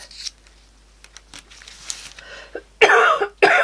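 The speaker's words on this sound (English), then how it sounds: "That's my normal cough, by the way." A couple of sharp, close coughs near the end, after a stretch of quiet rustling and small handling noises.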